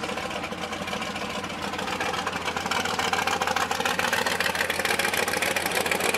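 A 1966 Mustang Pro-Street engine rated around 1400 horsepower idles steadily at a car show, a loud, continuous rumbling drone with a deep, even low-end throb that grows slightly fuller partway through.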